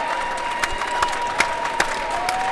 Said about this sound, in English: applause from the TABC fans for the amazing season TABC had